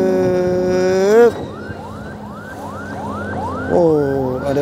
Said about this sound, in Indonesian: Oh, ada lagi ambulan yang lewat kah?